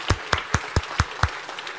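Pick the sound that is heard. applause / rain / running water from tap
applause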